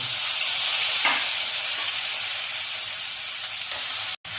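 Boiled jackfruit frying in hot oil gives a steady, loud broadband sizzle that hisses on without pause, with a brief dip near the end and no voices.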